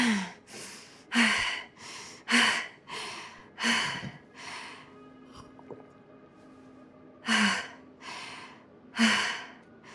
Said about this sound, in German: Die atmen alle sehr laut.